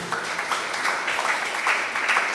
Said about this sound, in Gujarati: આ વાત પર આપણે તાળી પાડવી જોઈએ.